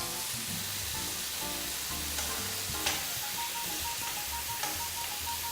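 Steak topped with mushrooms sizzles and fries in a pan, a constant bright crackling hiss with occasional sharper pops, alone with no talking, while a low tonal hum sits underneath.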